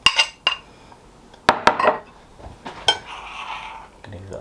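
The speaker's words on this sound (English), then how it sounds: "Going to give that a stir around." Hot cross bun mixture of flour, salt and butter stirred in a bowl: several sharp clinks and knocks of a utensil against the dish with scraping between, close and intermittent, no talking.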